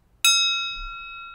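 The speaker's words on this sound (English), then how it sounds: "It's actually a crystal glass that I'm tapping." A crystal glass is tapped once like a bell, giving a clear, bright ring that sustains and slowly fades.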